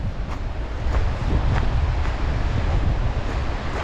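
Ocean surf breaks along the shore at Jongensfontein on South Africa's coast near high tide, a steady rushing wash of waves with wind buffeting the microphone throughout.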